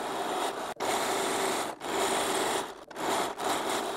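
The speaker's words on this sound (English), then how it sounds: "We're going to go over to the sewing machine and we're going to sew from one side" A sewing machine stitches fabric squares into bunting flags in a series of fast, whirring runs, broken by short pauses between stitching bursts.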